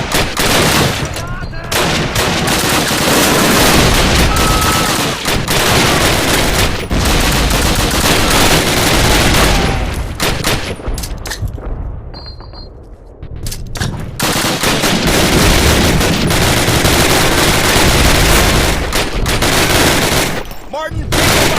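Sustained machine gun fire in Call of Duty, loud, dense bursts and overlapping gunshots with a brief lull midway, combat shouting mixed in throughout.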